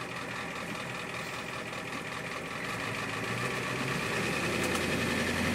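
A 1989 Ford E-350 van with a 7.3L IDI diesel engine drives along, its steady mid-pitched engine drone and vibration continuous and close, rising slightly in loudness partway through as it accelerates, with no talking.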